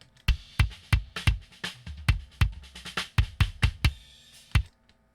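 A lightly compressed close-miked kick drum plays alongside a drum kit: a run of about fifteen punchy, evenly spaced hits, some in quick doubles, each with a natural decay, close and alone without voices.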